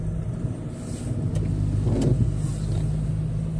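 Heavy, jammed road traffic near Uptown Mall in BGC at night, a continuous low rumble of idling and slowly moving car engines close by, steady throughout with slight swells as vehicles edge forward.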